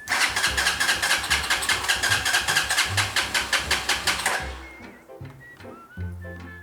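A Hawk 250 motorcycle with the choke on cranks in loud rhythmic pulses for about four seconds, then the starter stops and a few weak, uneven engine sputters follow.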